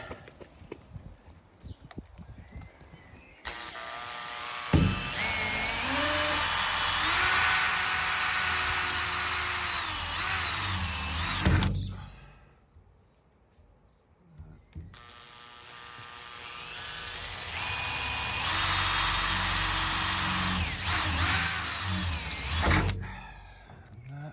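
A power drill whirs loudly and close in two long, steady runs, separated by a brief quiet pause, drilling a hole in a 2010 Ford Transit van to fit a security deadlock.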